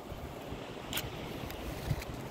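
Wind blows across a beach, a low, soft rumble of gusts buffeting close to the microphone, faint and steady with a couple of brief louder puffs and no talking.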